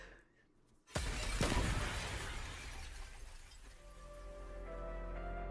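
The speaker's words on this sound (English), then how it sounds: "The crack shattering in glass cuts through the chimes of the comfort belt." A sharp crash of glass shattering from the Arknights video game, sudden and loud after a quiet moment, then a long ringing, crackling decay that fades into soft chiming tones.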